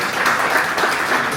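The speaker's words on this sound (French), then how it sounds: "applaudissez-les s'il vous plaît" Audience applause at a live event, a short burst of dense, steady clapping from a crowd, fairly loud and close, with no talking over it.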